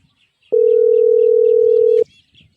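A telephone dial tone heard on a call being placed: a single loud, steady electronic hum lasting about a second and a half, cutting in and out abruptly, with faint background sound around it.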